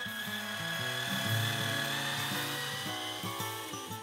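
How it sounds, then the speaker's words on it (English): A power drill bores a clearance hole through aluminum while an arched garden arbor is being put together. The drill whines steadily with stepped pitch changes as it bites, sounding fairly quiet and close. "First, I drill a clearance hole large enough to accommodate the screw shaft."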